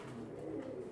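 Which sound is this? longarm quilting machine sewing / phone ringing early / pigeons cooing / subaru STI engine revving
pigeons cooing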